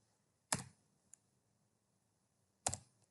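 A couple of isolated keystrokes on a computer keyboard, sharp close clicks spaced about two seconds apart, with a tiny tap between them in an otherwise quiet room.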